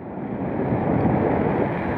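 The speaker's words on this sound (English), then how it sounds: "Quite breezy on this side." Steady wind blowing across a fell summit by a cairn on High Rigg, a loud continuous roaring rush buffeting the microphone, with no talking.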